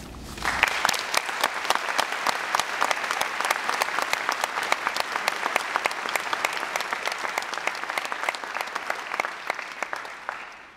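A graduation audience gives teachers a long round of applause, crisp rapid clapping from many hands that starts abruptly and holds steady and loud for about ten seconds before thinning at the end.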